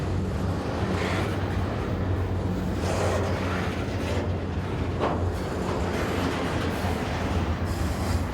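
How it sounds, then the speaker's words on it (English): A long CSX freight train loaded with shipping containers rolls past close by on the Cumberland Subdivision in Maryland, a continuous heavy rumble with wheel clatter and occasional brief squeals, no voices. "there were 257 shipping containers carried by this train"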